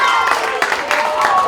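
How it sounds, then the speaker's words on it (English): Crowd cheering and shouting at the 2019 PLFL A-Grade football grand final between Tasman and Mallee Park, a steady broad roar from the stands with swelling surges, heard under a commentator's talk. "Cheering down there."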